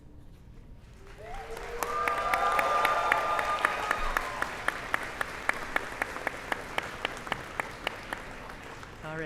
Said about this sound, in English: Graduates, please take this moment to express your gratitude to your supporters with applause,